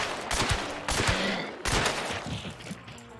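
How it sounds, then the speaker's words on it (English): Dense gunfire in the game Hunt: Showdown, a loud close fusillade of rapid shots in several bursts with brief gaps between volleys. "you have to be careful that you don't go deaf because of the shooting"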